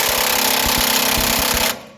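A hammer strikes a ball joint press tool on a truck's front suspension over and over, fast metallic blows in a steady rapid rhythm, close and loud, then stopping abruptly.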